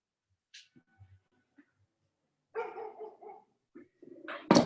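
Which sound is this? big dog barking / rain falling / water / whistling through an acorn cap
big dog barking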